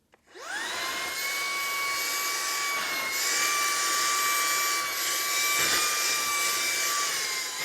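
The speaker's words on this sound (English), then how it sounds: "So I'm going to use this to vacuum up these kitty condos" A Shark Stratos IZ862H cordless stick vacuum whirs up quickly while vacuuming furry cat condos, running steadily with a high-pitched motor whine and airy rush, holding a constant loud drone.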